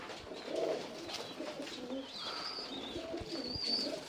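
Pigeons coo softly and repeatedly at moderate distance, with faint chirps and low background noise throughout.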